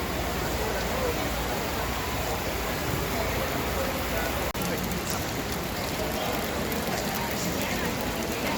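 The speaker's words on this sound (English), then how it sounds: "it pretty much started raining right then and there" Rain pouring at a NASCAR stadium during the Coke Zero Sugar 400, a steady hiss of drops on surfaces filling the scene, with a brief soft knock midway.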